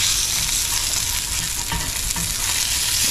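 Sausage fries in a pan in an old-fashioned country kitchen, giving a loud, steady sizzle and crackle close up that runs without a break.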